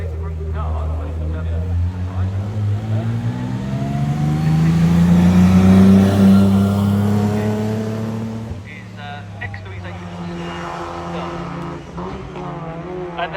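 A rally car engine drives past on a hillclimb course, rising to a loud near peak and then fading as it moves away, with a commentator talking over it throughout.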